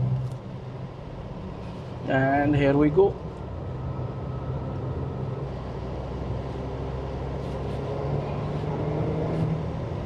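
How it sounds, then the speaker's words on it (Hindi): A Tata Altroz Racer's engine hums steadily from inside the cabin while driving on a track, a low, constant drone that rises slightly toward the end, with someone speaking briefly early on. "आप इंजन का नोट सुनिए।"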